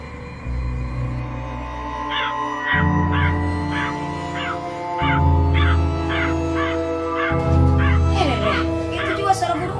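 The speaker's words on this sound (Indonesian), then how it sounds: "Itu juga suara burung tak?" A bird calls in a rhythmic series of repeated cawing cries over music, loud and fairly close, with voices talking underneath.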